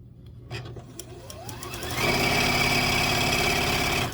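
A sewing machine stitching across a quilt block, starting with a few slow clicks and thumps, then spinning up into a loud, steady high-pitched whir of rapid needle strokes that runs to the end.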